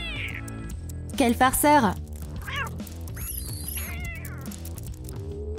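A cartoon kitten gives several high, bending meows and squeaky cries between a man's brief spoken remark and playful sound effects, close and fairly loud.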